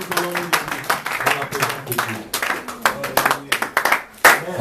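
Church congregation clapping hands in rhythm to praise the Lord, a loud, steady beat of repeated claps mixed with voices singing and calling out over music.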